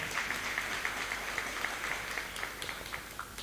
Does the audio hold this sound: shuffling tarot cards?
no